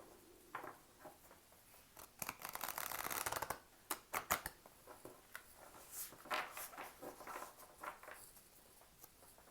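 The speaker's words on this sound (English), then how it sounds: "I'll just shuffle the cards a few times." Close-up papery riffling and tapping of tarot cards being shuffled in quick bursts, with a dense rapid flutter partway through and softer shuffles after.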